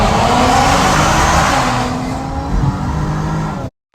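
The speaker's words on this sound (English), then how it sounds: "So make my car go vroom vroom." A supercharged V6 Dodge Charger revs hard inside a tunnel, a loud, close engine roar with echoing reverberation that eases slightly midway before cutting off abruptly.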